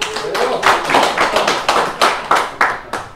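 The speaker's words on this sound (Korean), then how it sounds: "박수 한번 주세요" A small lecture audience gives a short round of clapping, about a dozen distinct, fairly rhythmic hand claps that ring out close and clear over roughly three seconds.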